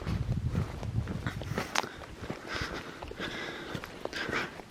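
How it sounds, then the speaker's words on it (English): Footsteps crunch along a mountain trail while backpacking in Utah, an uneven run of close scuffs and steps with faint wind in the background and no speech. "there is no noise other than my footsteps and the wind in the trees"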